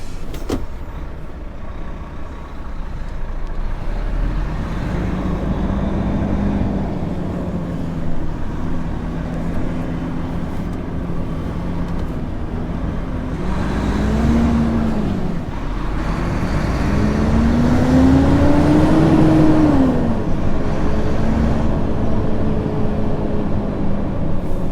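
A 2012 Volvo truck pulls away on the road, its engine droning steadily from inside the cab and rising in pitch as it gathers speed, with road and wind noise throughout.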